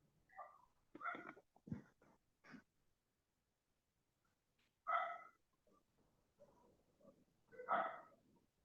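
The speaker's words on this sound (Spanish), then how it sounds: "Ahí solo se escucha perro ladrar," A dog barks faintly in the background, in short scattered bursts with long quiet gaps between them.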